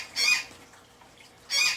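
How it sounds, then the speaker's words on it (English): A Patagonian conure kept as a tame indoor pet calls from the background, two loud, harsh squawks with a quiet pause between them and no talking. "Now, that is a Patagonian conure that you hear in the background."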